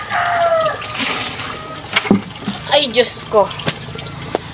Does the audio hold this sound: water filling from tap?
yes